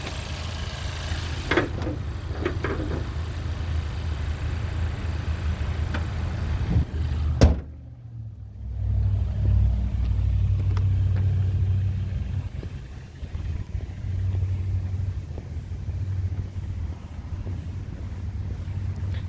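A 2021 Honda Civic Type R engine idles steadily and smoothly, a low continuous hum close by, broken midway by a sharp thud like a hood or door closing before the running drone resumes.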